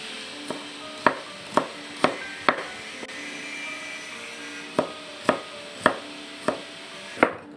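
A knife chops shallots and garlic finely on a board, about a dozen crisp, evenly spaced thuds in two runs with a short pause between, close up over faint background hiss.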